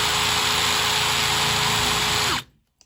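A power drill in second gear runs flat out with a loud, steady high whine and a droning hum, then cuts off abruptly near the end, leaving near silence.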